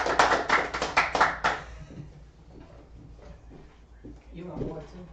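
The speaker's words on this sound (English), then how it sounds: "Y'all clap it up." Short burst of audience clapping at the opening of a talk show, a few seconds of rhythmic, fairly close claps that quickly fade as voices take over.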